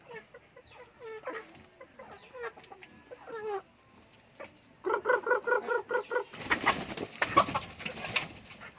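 Chickens clucking and cackling nearby, a busy flock with repeated throaty clucks building into louder overlapping calls, with rustling in the background.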